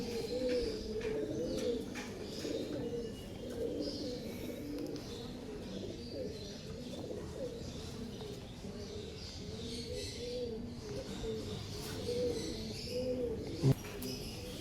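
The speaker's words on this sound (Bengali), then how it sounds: "এই পায়রা হাতে ধরতেই চায় না।" Black Madras pigeons coo steadily in low, rolling phrases, with faint chirps and a brief sharp knock near the end.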